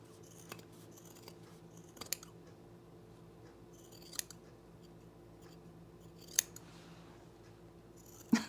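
Scissors trimming fabric for a welt pocket on men's cargo shorts, a few separate quiet snips spaced a couple of seconds apart, close up against a low background hum.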